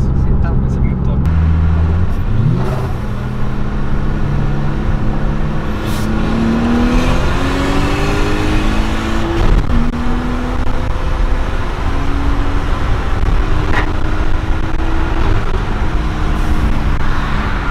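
Nissan Skyline engine revving hard and accelerating through rising pitch sweeps, loud and close inside the car, with a shift mid-pull and steady road roar underneath; people talk over it.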